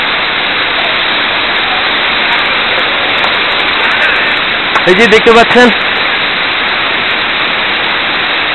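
Chingri waterfall in Bandarban pours with a steady, dense roar that fills the whole clip, while a person speaks briefly over it near the middle.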